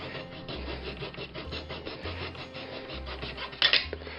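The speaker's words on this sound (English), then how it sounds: "I'm just cutting the bits of excess off it." Hand saw rasping steadily through a model locomotive body to trim away excess material, a continuous rubbing, scraping stroke sound heard close up and alone, with a sharper scrape near the end.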